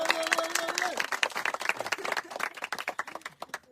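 Audience applause at a celebration, a dense patter of clapping with crowd noise and a voice speaking over it.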